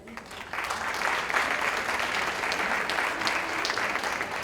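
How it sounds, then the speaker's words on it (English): Audience applause at a Save The Child Foundation event, steady clapping from a crowd that swells after the first half second and holds at an even, fairly loud level throughout. "please give a round of applause to Samir Thoda"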